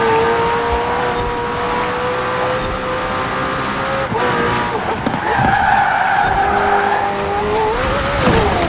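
Car skidding out of control in the racing game Forza Horizon 4, a loud continuous tire squeal over a droning engine, shifting pitch as the slide changes, with no talk.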